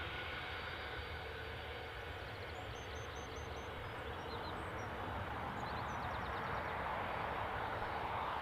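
Ryanair Boeing 737 airliner at Newcastle airport: a broad, steady jet roar, distant but sustained, fills the scene, with faint bird chirps above it.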